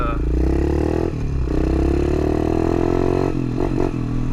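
A pit bike engine drones steadily while being ridden, holding a strong, continuous buzzing tone with brief dips in revs near the start and again toward the end. It stays loud and close throughout.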